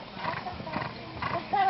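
Horse hooves clip-clop on dusty ground at an outdoor gathering, a quick uneven patter heard up close beneath people talking.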